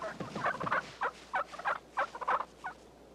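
A wild Merriam's turkey gobbles in a rapid rolling burst of throaty, rattling notes, about a dozen pulses over three seconds, fairly close and clear against a quiet background.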